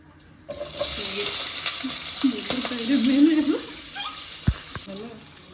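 Onions fry golden brown with spices in a pan for white chicken biryani in a home kitchen, giving a steady, close sizzle with occasional stirring and a soft voice murmuring underneath.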